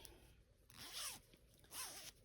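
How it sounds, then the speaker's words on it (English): The zipper on a baby doll's zip-up sleeper is drawn up in two short rasping pulls, close and crisp, with a brief pause between them in a quiet room. "zip you up"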